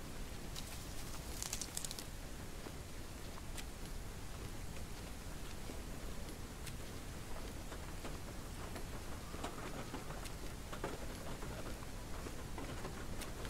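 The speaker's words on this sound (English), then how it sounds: "The rain sounds really good." Steady, faint rain patters across the whole stretch in the survival game Jaws of Extinction, a soft broadband hiss with scattered droplet ticks and no other sound breaking through.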